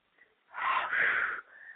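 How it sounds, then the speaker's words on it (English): One person takes a heavy, breathy inhale and exhale, a close, wheezy rush of air that swells for about a second and then trails off softly. "I'm breathing."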